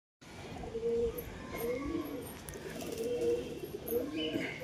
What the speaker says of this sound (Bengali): এই যে কবুতরটা নর কবুতর